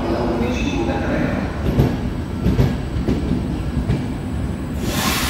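An Intercity train rolls into an Italian station platform, its wheels rumbling and clattering loudly and close by, with brief squeals and a rising hiss near the end; no one speaks over it.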